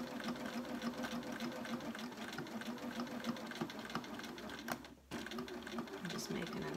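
A sewing machine stitches the edge of fabric for a peg bag, running in a quiet steady whir with a brief pause before resuming, while a person talks over it.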